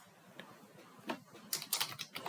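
Password typed on a computer keyboard while logging into Salesforce, a few scattered key taps at first, then a quick burst of crisp, close clicks toward the end.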